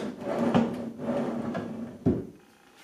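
A dust collector platform mounted on wooden drawer slides is raised and lowered, giving repeated rumbling slide rubs and a sharp knock as it stops, close and loud.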